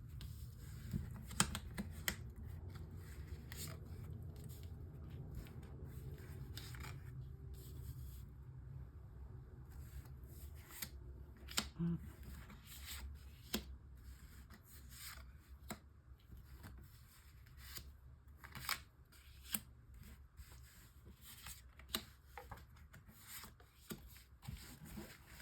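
Tarot cards rub and slide as they are shuffled, drawn and laid out for a nine-card spread, soft scraping under a low hum, punctuated by sharp taps and clicks as cards hit the table.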